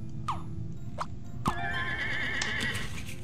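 A horse in the video game Scribblenauts Unlimited gives three short neighs followed by a longer whinny, clear and close against a low background hum.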